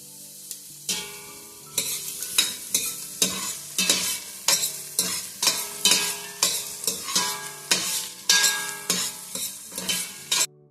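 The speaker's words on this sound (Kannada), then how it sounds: "ಈರುಳ್ಳಿ ಚೆನ್ನಾಗಿ ಫ್ರೈ ಆಗಿದೆ" Half a bowl of onions fries in a couple of spoons of oil in a hot pan for green masala chicken chops, sizzling steadily while a spoon stirs and scrapes the pan in repeated sharp strokes, close up with no talking.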